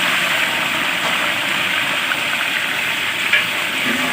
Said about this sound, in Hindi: चिकन को हल्का सा फ्राई कर लेंगे